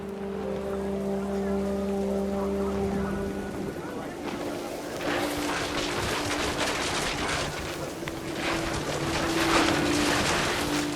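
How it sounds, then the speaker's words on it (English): Heavy rain pours in the video game What Remains of Edith Finch, rising after a few seconds from a low droning hum into a dense, steady downpour that stays loud to the end. "The rain came down in buckets then"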